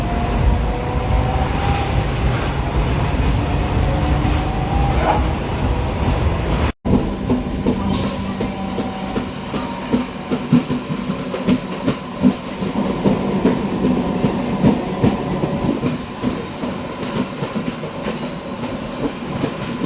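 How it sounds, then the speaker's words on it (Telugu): MEMU passenger train pulling out of Uppuguda station after a one-minute stop: loud, continuous rumble with rhythmic clickety-clack of wheels on rail joints, heard from on board, steady throughout with no voices. "మన ట్రైన్ ఉప్పుగూడలో 1 నిమిషం ఆగిన తర్వాత తిరిగి బయలుదేరింది."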